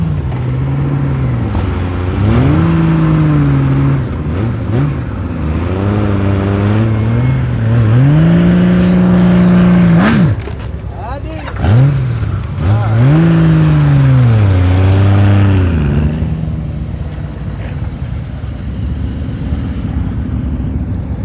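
A motorcycle engine revs up and down repeatedly during slow-speed riding drills in Tennessee, rising and falling in steady throttle swells up close, with a brief pause midway before settling to a lower idle.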